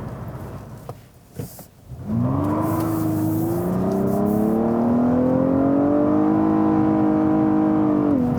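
A Nissan Maxima engine climbs under hard acceleration, a loud, sustained drone that rises quickly and then holds at high revs, close and steady, after a brief quieter lead-in.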